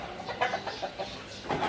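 A rooster clucks in short, repeated bursts at close range, several quick throaty calls in under two seconds.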